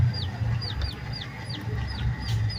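Day-old colourful chicks kept in a small brooding room give repeated high, thin peeps at a steady rhythm, mid-distance over a constant low background hum.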